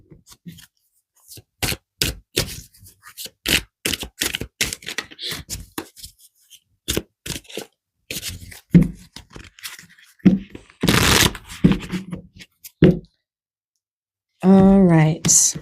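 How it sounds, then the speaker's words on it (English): Tarot cards are shuffled and handled in a long series of quick, crisp flicks and riffles, close by, broken by short pauses and a brief spoken bit near the end. "let's pull some more cards"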